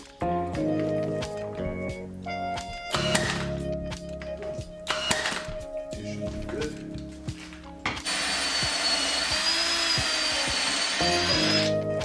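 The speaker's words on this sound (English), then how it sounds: "I made a jig out of a scrap 2x4 and a piece of poplar so I could drill out all of my dowel holes" A drill bores dowel holes in poplar held in a scrap 2x4 jig, sounding as a run of short whirring bursts and clunks followed by one longer, higher sustained drilling whine near the end.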